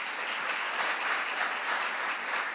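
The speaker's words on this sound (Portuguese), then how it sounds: "Podemos aplaudir Jesus?" A church congregation applauds together during a celebration service, a steady, dense wash of many hands clapping that fills the whole moment without pause, fairly distant and even in loudness.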